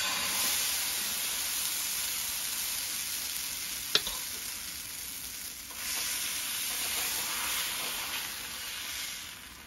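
Roti batter sizzles on a very hot pan, a steady bright hiss with a sharp tap partway through, close and fairly quiet.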